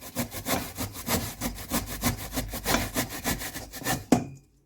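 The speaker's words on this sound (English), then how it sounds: "So I'm gonna grate it." Fresh cassava tuber being grated by hand, a brisk rhythmic rasping of about a dozen even strokes close up, ending in a sharp knock and then quiet.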